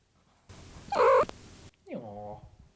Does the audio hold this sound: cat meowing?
yes